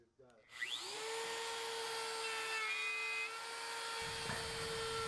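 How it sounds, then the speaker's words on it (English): A 3 1/8 inch Forstner bit drills a large hole through a wooden jig for a naval cannon carriage. A power drill spins up at the start and then holds a steady, high-pitched whine throughout. "It's a 3 1/8 Forstner bit I use to just drill the hole out."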